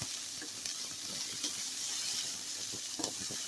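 Mixed vegetables with red capsicum sautéing in a pan for white sauce pasta: a quiet, continuous sizzle broken by light stirring scrapes and small clicks, heard close and alone.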